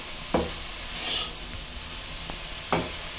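Amaranth leaves stir-frying in a pan: a low, steady sizzle runs throughout, broken by three or four sharp scrapes as a utensil stirs them.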